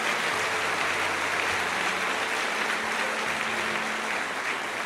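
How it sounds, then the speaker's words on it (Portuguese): A church congregation applauds steadily during a pastor's sermon, a continuous wash of clapping that holds even throughout, with no talk over it. "Pode aplaudir o Senhor."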